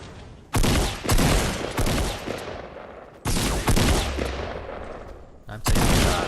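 Bursts of rapid gunfire in a video game squads match, several loud sustained volleys separated by short gaps, each trailing off into echo, with no talk over them.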